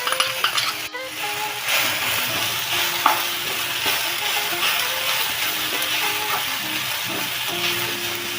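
Grated coconut stir-fried in a pan for Odia coconut chutney gives a continuous soft sizzle and rustling scrape of stirring, with a few light metallic clinks of the utensil against the pan.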